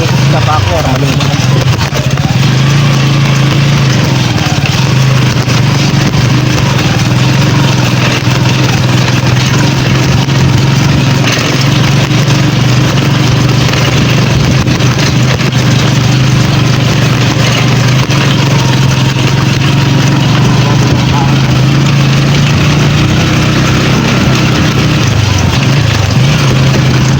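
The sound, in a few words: grass cutter engine running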